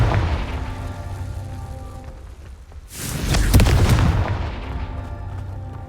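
A Confringo blasting spell goes off in Hogwarts Legacy, a single loud fiery burst with a booming low rumble that swells mid-clip and slowly fades, over steady game ambience.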